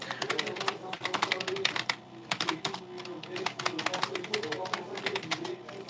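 Fingers type a title on a computer keyboard in quick, uneven bursts of close, crisp key clicks with short pauses between words.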